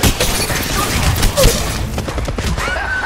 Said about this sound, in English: Reloading. Enemy. There's blood. Surging forward. Firing!